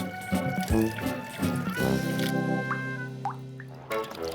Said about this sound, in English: Twisting the bottle creates a vortex, quite literally a pipe, through which the air can rush in whilst the liquid rushes out.